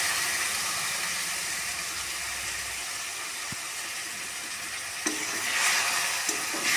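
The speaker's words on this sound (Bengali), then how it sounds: "আমি একটুখানি জল দিয়ে এটাকে আর একটু কষিয়ে নেব।" Broccoli curry with chilli powder, Rajasthani masala and vegetable masala hissing steadily in a pan after a splash of water, with a louder surge of sizzle near the end, close and with no talk.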